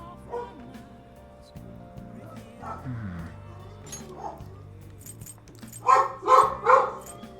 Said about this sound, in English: It's just the dog barking.